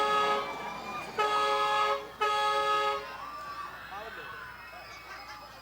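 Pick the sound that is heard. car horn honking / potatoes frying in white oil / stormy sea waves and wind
car horn honking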